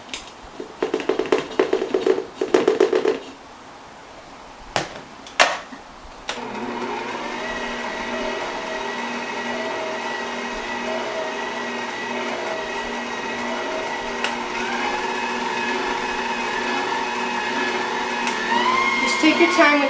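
After a few taps and handling knocks, an electric mixer beats thick pound cake batter with flour, starting as a steady close whine that holds evenly and rises slightly at the end.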